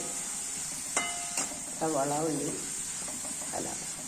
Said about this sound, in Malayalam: ഇഞ്ചി, വെളുത്തുള്ളി, പച്ചമുളക്, മല്ലിയില, വേപ്പില ഇതെല്ലാം നമുക്ക് വഴറ്റിയെടുക്കാം